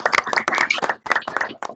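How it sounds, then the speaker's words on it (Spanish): Applause from a remote audience with microphones switched on, closing an engineering conference lecture about major projects of the EAAB; dense, uneven clapping runs throughout the short stretch and fills it. "les demos un fuerte aplauso por su presentación"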